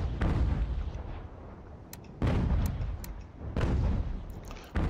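Naval cannon fire booms from warships in Ultimate General American Revolution, with three heavy, rumbling volleys at roughly one-second intervals, each decaying into a low roar, plus a few faint sharp cracks.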